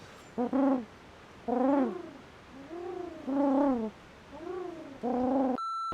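A person imitates pigeon cooing, six soft throaty coos in a steady series, close and alone.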